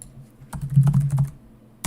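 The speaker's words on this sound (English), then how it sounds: "What is happening to my typing today?" Rapid keystrokes clatter on a computer keyboard while playing House Flipper, a dense burst of clicks over a low steady hum, then a pause and one final sharp key hit.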